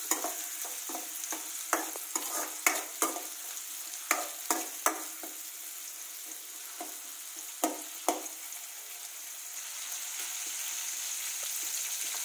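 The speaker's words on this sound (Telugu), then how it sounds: "వీటిని ఒకసారి బాగా మిక్స్ చేసుకోవాలి" Okra and onions stirred in a frying pan for a crispy bhindi fry, with a steady low sizzle broken by a series of sharp spatula scrapes and clicks against the pan, sparser toward the end, no talk.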